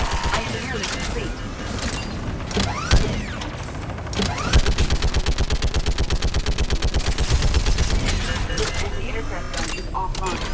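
An aircraft gun fires in Mass Effect 3 Legendary Edition, a loud, rapid, evenly spaced burst running for several seconds over a dense mix of game effects and voices.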